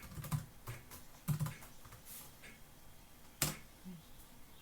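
Typing on the keyboard of a 2005 Dell Inspiron 9300 laptop, close and quiet, with irregular clusters of key clicks and a few louder taps.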